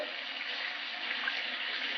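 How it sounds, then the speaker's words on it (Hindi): Water pours into leftover chicken drumstick marinade in a pan while cooking, a steady, close trickling splash that runs unbroken from start to end. "ये जो थोड़ा मसाला बच गया है, इसमें हम थोड़ा सा पानी डाल देंगे"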